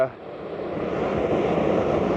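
Ocean waves break on a winter beach at Point Lookout around sunset, a steady broadband wash of surf mixed with wind rumble against the microphone, with no voices over it.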